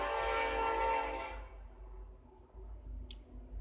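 A passing train sounds its horn loudly and close by, with a steady, sustained blast over the rumble of the rail cars. The horn fades, and the rolling rumble continues with a faint click.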